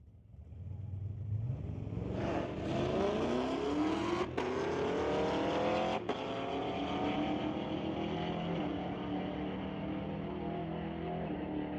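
Street-legal drag race cars at Mission Raceway Park launch and accelerate down the strip, engines roaring loud and rising in pitch as they pull away, with two sharp clicks partway through and no talk.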